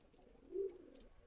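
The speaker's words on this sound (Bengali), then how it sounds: "এগুলো আমার বাসার কিছু কবুতর" A single soft, low coo from Rajshahi Giribaz pigeons at a high-flyer loft, brief and faint against a quiet background.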